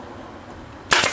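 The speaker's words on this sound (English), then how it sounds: "Just put a staple there" One sharp snap of a staple driven into a strip for a small hive beetle baffle, a single brief crack after a moment of quiet room tone.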